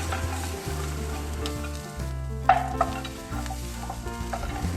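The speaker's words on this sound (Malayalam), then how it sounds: "ലൈറ്റ് ബ്രൗൺ ആവുന്നത് വരെ നമുക്കിതൊന്ന് റോസ്റ്റ് ചെയ്തെടുക്കാം." Grated coconut and peanuts dry roasting in a pan, a soft steady crackle under a low stove hum, with a spatula scraping and stirring now and then.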